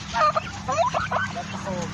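Several ducks quack and chatter close by on a farm, a few honking calls overlapping in short bursts over a low steady hum.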